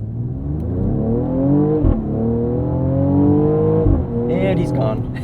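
A 2022 Mercedes-Benz GLE 53 AMG accelerates hard in automatic, engine pitch climbing steadily through two quick upshifts, loud and close from inside the cabin.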